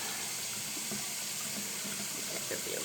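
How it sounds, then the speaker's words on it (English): Water runs from a tap into a sink to warm a mascara tube, a steady, close, even stream of running water throughout. "I'm warming up water to put my mascara in."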